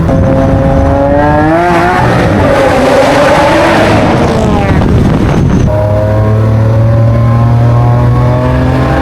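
A Lamborghini Aventador LP-700 V12 engine revs loudly and close, pitch sweeping up and down through aggressive blips, then settling into a steady, deep rumbling idle.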